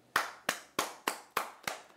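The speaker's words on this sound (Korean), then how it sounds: "이 시점에서 박수." Claps ring out at a Korean comedy show, seven crisp, evenly timed strikes with a short echoing tail, close and distinct, with no talking over them.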